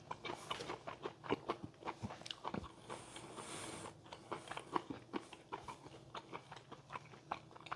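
Close, crisp chewing of well-cooked pepper bacon, a steady run of crunchy bites with short sharp transients repeating over several seconds, no talking.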